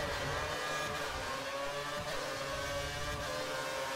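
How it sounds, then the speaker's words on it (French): F1 race car engines at the start of a racing video game, a steady high-pitched whine from several cars with sustained revving at an even level, no talk. "on revoit le départ avec la McLaren de Little"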